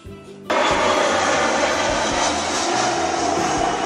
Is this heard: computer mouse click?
no